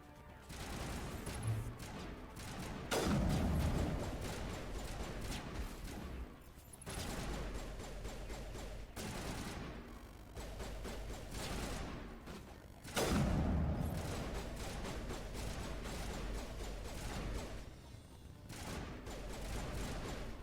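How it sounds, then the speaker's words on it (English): Gunfire in the Mass Effect Legendary Edition game, sustained bursts of rapid shots and heavier booms that swell and ease over about twenty seconds, loud and continuous, with no voices. "you guys are still shooting at something"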